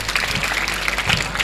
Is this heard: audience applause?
yes